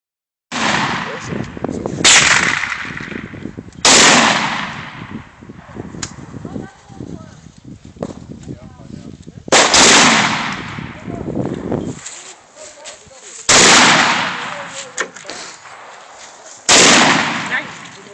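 An AK-47 rifle fires about five sharp, loud single shots, spaced a few seconds apart, each with a booming echo that lingers outdoors. Voices talk in between.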